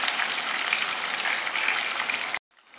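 Raw green chillies fry in a pan for spicy dry jeera aloo, a loud, even, close sizzle that cuts off abruptly near the end before a faint hiss returns.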